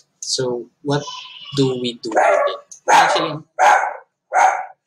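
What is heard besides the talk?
dog barking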